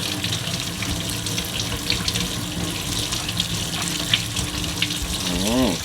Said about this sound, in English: you have to make sure you wash your breadfruit